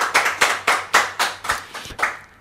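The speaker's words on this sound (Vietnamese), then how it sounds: "Rồi thì một tràng pháo tay thật lớn lên." Audience clapping at a Catholic Mass homily, eight loud, evenly spaced claps in a slow rhythmic beat, close and sharp, with no talking over them.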